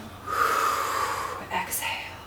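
A deep inhale during a gentle yoga session, one long audible breath drawn in close to the microphone, followed by a short softer breath sound.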